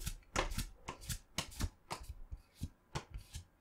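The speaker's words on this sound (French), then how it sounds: "J'arrivais pas à bien ouvrir le pack." A Pokémon card booster pack from the Mega Evolution series being torn open by hand, a run of sharp crinkling foil rips and rustles in quick uneven bursts, close and fairly loud with no talking.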